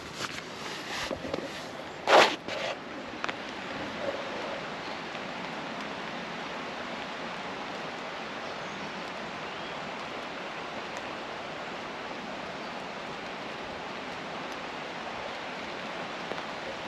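Rain keeps falling over a wild campsite as a steady, broad wash of drizzle, with a few sharp taps and a close knock early on before settling into an unbroken hiss.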